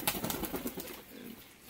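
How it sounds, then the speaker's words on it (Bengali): A male pigeon at a bird sale, with soft flapping and rustling and a faint low coo, close and alone over a short moment. "আর এটা একটা নর পায়রা"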